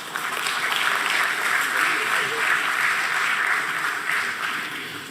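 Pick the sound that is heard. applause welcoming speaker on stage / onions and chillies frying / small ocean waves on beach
applause welcoming speaker on stage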